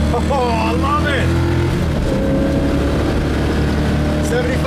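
A 1966 Ford Mustang K-code pulls hard under acceleration, its engine drone steady and loud throughout, with someone talking over it.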